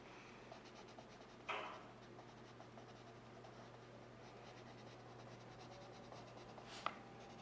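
Derwent ink pencils scratch faintly across paper while someone colors, a soft continuous rasp with a couple of sharper strokes, close and quiet.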